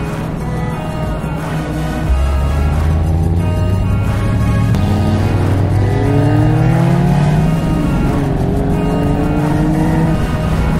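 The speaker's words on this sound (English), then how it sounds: "Arrived at Decathlon and we heard these E-types blasting past." Jaguar E-type race cars blasting past on the Mulsanne Straight at Le Mans, a loud sustained engine roar with rising revs as several cars sweep by in succession, close and continuous.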